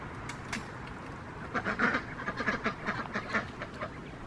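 Several ducks quack in quick, uneven bursts at moderate distance, their calls overlapping for a few seconds before tapering off.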